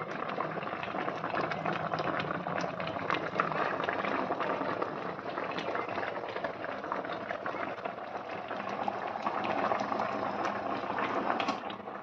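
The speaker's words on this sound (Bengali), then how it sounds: "দেখুন কিছুক্ষণ পরেই একদম টকবক করে ফুটছে।" A pan of hilsa fish curry boils vigorously nearby, a dense continuous bubbling and popping that holds steady throughout, with no clear voice over it.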